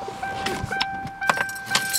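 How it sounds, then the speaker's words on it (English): Metal keys on a ring for a 2007 Ford Crown Victoria Police Interceptor jingle close up in short, bright rattles with brief pauses between shakes. "5 keys with this unit, folks."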